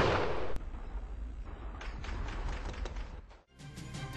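Gunfire in a comedy episode set at a camp base under attack, a loud burst of shots and crashes filling the clip, with a sharp crack early on and a brief dip near the end before the racket resumes.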